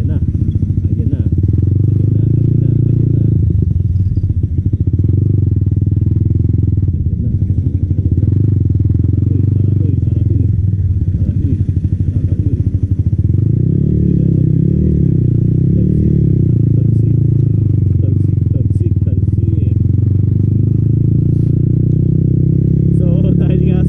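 A Yamaha MT15 motorcycle on a test ride gives a loud, steady engine drone with low rumble and wind buffeting, close throughout, with a rider talking over it.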